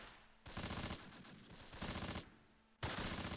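In the Close Combat video game, set at Arnhem in September 1944, machine-gun fire rattles from a trench in three loud, sustained bursts separated by short pauses, with no talking.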